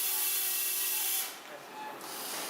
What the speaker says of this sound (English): The head of the shark screw is removed just above the bone surface with an oscillating saw.